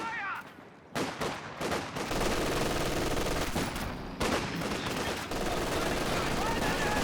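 Rapid bursts of machine gun fire in a Company of Heroes 2 battle, an MG pinning an enemy unit inside a building, with repeated loud volleys and other gunfire throughout.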